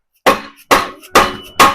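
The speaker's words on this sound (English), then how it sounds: "now I'm going to tap them in with my blunt hammer here" Four sharp metallic taps, evenly spaced, as a blunt hammer drives exhaust pipes into the cross pipe while installing a Borla S exhaust on a 2016 Dodge Charger 3.6L; each strike rings briefly and fades, close and loud.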